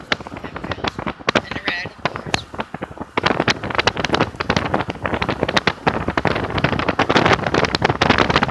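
Strong wind blows over Lake Champlain near the bridge between New York and Vermont, battering the microphone in loud, irregular gusts that build and stay rough throughout.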